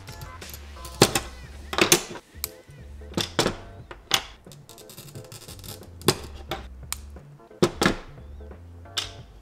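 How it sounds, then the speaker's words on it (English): Glass being scored and snapped into pieces for a simple tipi design, a series of sharp, bright cracks and ticks spaced irregularly over light handling noise, close and fairly loud. "Okay, let's do our 2 cuts here."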